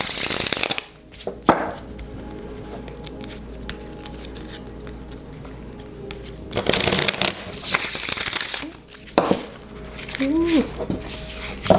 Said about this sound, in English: Shuffling is a bit messy today.